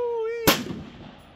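A single sharp, booming rifle shot from a Ruger SFAR chambered in .308, loud and close, with a rolling echo tailing off after it, preceded by a steady electronic tone.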